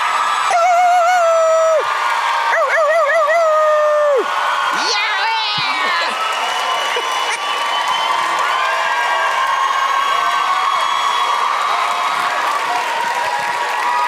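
A live comedy show crowd at Club Soda cheers, whoops and applauds, with high shouts and yells early on giving way to a sustained, loud roar of clapping and voices.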